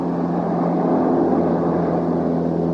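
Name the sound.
seaplane scooping water through probe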